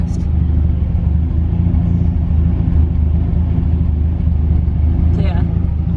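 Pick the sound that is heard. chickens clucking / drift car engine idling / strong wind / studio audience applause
drift car engine idling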